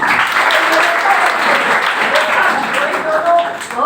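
An audience at a women's welfare centre event, launching a nursing course, gives loud, sustained applause for Anita, steady close clapping with faint voices mixed in.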